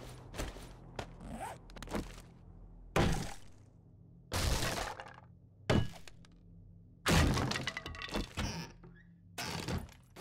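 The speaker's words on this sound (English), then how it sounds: "let's get our axe out here" An axe in the survival game 7 Days to Die strikes and smashes objects: a run of heavy thunks and cracking breaks about every second or two, each a sharp, loud burst. No one speaks over it.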